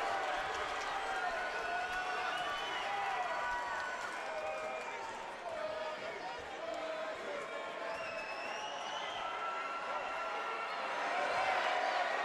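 A large arena crowd at a fight night at Cable Dahmer Arena in Independence, Missouri, roars and cheers continuously and loudly through the whole stretch, a dense sustained wall of voices swelling again near the end.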